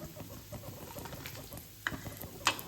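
Chana dal, urad dal and peanuts roasting lightly in oil in a kadai, a soft sizzle with scattered pops and spoon-scraping clicks, two sharper knocks near the end.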